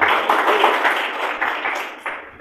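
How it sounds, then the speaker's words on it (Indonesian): A church congregation applauds continuously, dense overlapping claps that stay loud and gradually taper toward the end, with no talking. "Yang siap ketemu Tuhan Yesus, tepuk tangan bagi Tuhan."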